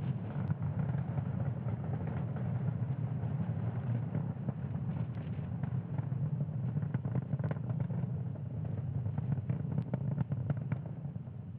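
A SpaceX rocket climbs during a Starlink satellite launch, its steady crackling roar rumbling continuously and heavily from a distance, with no breaks and no other sounds.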